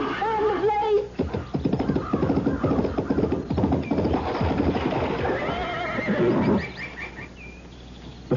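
A horse whinnies loudly at the start, followed by rapid hoofbeats and jostling clatter, with another faint neigh near the end, in a radio drama.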